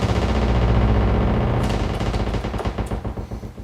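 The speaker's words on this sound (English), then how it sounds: "it goes all the way down to a click. And you can hear your oscillators" Moog Prodigy synthesizer with its oscillators tuned far down, a loud, dense stream of rapid clicks that starts as a steady buzzing rattle and slows into distinct, separate ticks.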